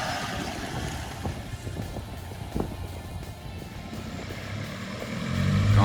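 A vehicle on a muddy border track rolls through a puddle with rough, wind-buffeted rumbling and scattered splashes, the sloshing swelling louder toward the end.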